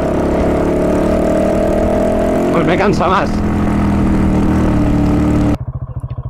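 A Fantic 450 Rally motorcycle engine drones steadily and loudly throughout, with a brief revving surge partway, as someone speaks over it near the end.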